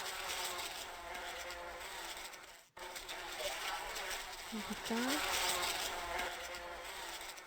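Insect buzzing fills a cluttered lab in a French-language hidden-object adventure game, a steady droning hum with a brief cut partway through, running under a voice commenting on the scene.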